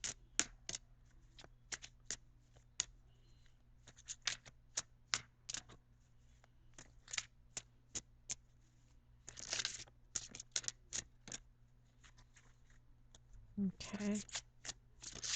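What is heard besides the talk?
shuffling Angel Oracle cards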